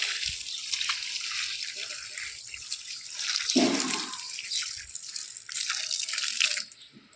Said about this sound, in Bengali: আমি এখন এইখানে ঢেলে দেবো জলটা